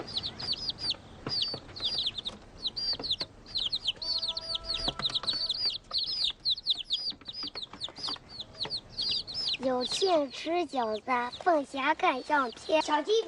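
Young chicks cheep in high, rapid peeps throughout a Chinese period film scene, the chirping thick and continuous and partly under narration, growing louder and busier toward the end.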